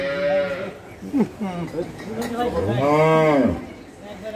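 Dairy cows on a Bangladeshi farm moo loudly and close by, several drawn-out calls, the longest swelling near the end.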